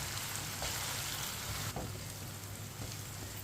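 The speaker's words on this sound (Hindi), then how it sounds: "टमाटर को इसी तरह चम्मच चलाते हुए पकाना है।" Tomatoes cook in a pan while being stirred with a spoon, part of making mash daal. They give a steady, even sizzle with a few faint stirring knocks, and no voices are heard.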